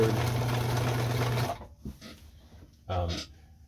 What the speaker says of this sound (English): now the machine's sewing